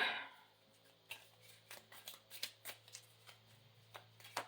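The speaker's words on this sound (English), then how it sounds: "These little cards are fantastic, but they're so hard to shuffle." Small tarot cards being shuffled by hand, a series of soft riffling flicks and taps at an uneven rhythm, close and quiet, with no talking.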